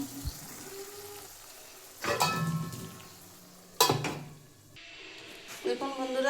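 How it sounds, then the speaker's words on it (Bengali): Sim paturi, a Bengali flat-bean dish, stirred in a pan: a couple of loud metallic clanks and scrapes of a utensil against cookware over a faint sizzle, while someone talks. "আমি একটু নাড়িয়ে দিলাম"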